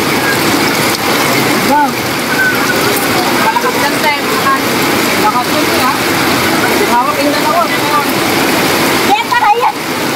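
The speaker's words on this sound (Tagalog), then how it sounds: "malakas yung agos ng tubig." Strong floodwater current rushing over a flooded road on EDSA Muñoz, a loud continuous roar of water, with someone talking over it now and then.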